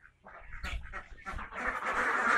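Khaki Campbell ducks on a farm quacking in a close, busy flock, with overlapping calls building to a dense, continuous chorus by the end.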